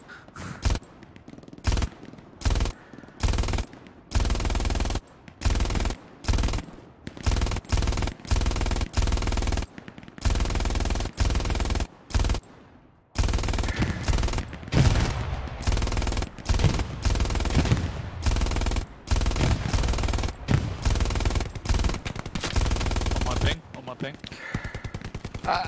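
Bursts of machine gun fire in Hell Let Loose, an 18v18 World War II shooter match, come loud and close in rapid repeated volleys with brief pauses, some faint voices underneath, before the firing tapers off near the end.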